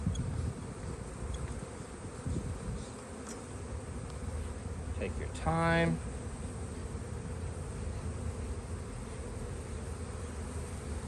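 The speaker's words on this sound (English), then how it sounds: "Now we're gonna get the bees back in the box." Honeybees hum steadily around an open brood box during a spring hive inspection, a dense continuous drone with a brief louder buzz from one bee passing close; a voice speaks briefly.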